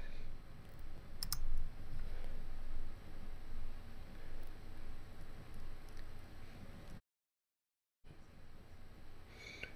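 Computer mouse clicks during software setup: a few sharp, close clicks near the start, then sparse faint ticks over a steady background hiss, with a brief dropout to silence near the end.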